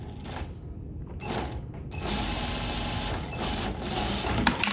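A sewing machine stitches a fabric seam on a bustier's boning and edge finishing, a steady close mechanical whirr and rattle that runs continuously with short pauses and changes of pace.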